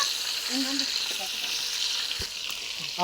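Onions fry in a pan for pulao, giving a steady close sizzle throughout, with faint stirring and a brief snatch of voice in the background.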